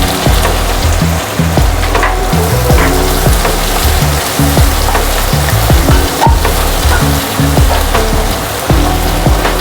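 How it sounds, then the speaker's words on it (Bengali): Chopped onion sautéing in oil for masoor dal, a loud, close, dense crackle and sizzle with steady rhythmic stirring scrapes and occasional sharp clicks throughout. "পেঁয়াজটা সাতলাবো, পেঁয়াজটা যাতে তাড়াতাড়ি নরম হয়ে যায়"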